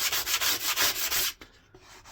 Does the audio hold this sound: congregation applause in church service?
no